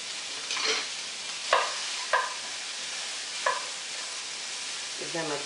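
Onions being sautéed in extra virgin olive oil, a soft steady sizzle broken by several sharp spoon scrapes and stirring knocks against the pan, with no one speaking.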